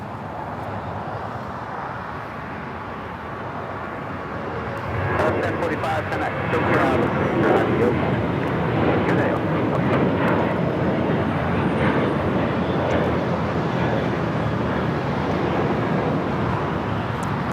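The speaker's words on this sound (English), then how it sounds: "That is Alaska Airlines 1045 taking off to Guadalajara on the 737-800." An Alaska Airlines Boeing 737-800 jet taking off at LAX, bound for Guadalajara: a broad roar that swells after a few seconds and holds steady and loud, with a voice talking over it.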